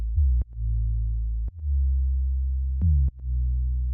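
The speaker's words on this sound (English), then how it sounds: "what I've got effectively is just a sine wave" A pure sine wave tone from Ableton Operator plays steadily and loud with no other sounds, cut by a few brief gaps where the pitch restarts with a slight chirp.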